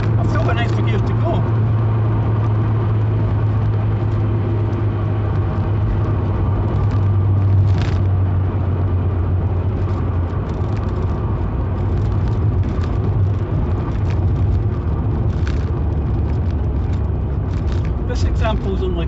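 A low-mileage MG F sports car engine drones steadily and loudly from inside the cabin as it pulls through the gears, while someone talks over the noise throughout.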